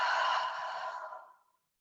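A single long exhale during a yoga practice, a soft breathy sigh that starts fairly strong and fades out over about a second and a half, alone in a quiet room.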